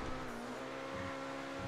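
An Obey 10F sports car in GTA 5, its engine holding a steady, high, whining drone at speed in its top gear, faint and continuous with no talk.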